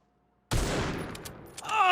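A single sharp gunshot from an online tactical shooter match in C-OPS, striking with a loud, abrupt crack and a long rumbling tail; faint voice-like tones creep in at the very end.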